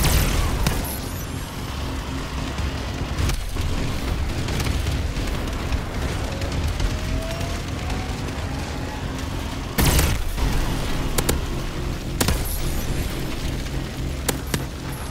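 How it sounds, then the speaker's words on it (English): Bombing run explosions in the multiplayer shooter Call of Duty: Advanced Warfare, a dense, continuous roar of heavy booms and rumbling blasts, with sharper bursts standing out near the end. "Friendly bombing run clearing the way."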